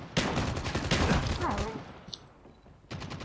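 Rapid bursts of shotgun fire in a Call of Duty match crackle densely for about two seconds, then fall away into quieter game noise before a final shot near the end.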